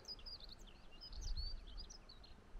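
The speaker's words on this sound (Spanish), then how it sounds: "solo se escuchan los pajaritos i l'aigua circular" Small birds chirp and tweet in scattered bursts by Llac dels Pessons, a turquoise mountain lake near Grau Roig in Andorra, fairly faint over a soft steady wash of moving water and outdoor ambience, with no talking.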